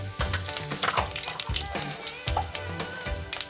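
Cumin seeds sizzling and crackling in hot oil in a kadhai for dhaba-style gobi masala, a steady close frying hiss punctuated by a few soft stirring knocks.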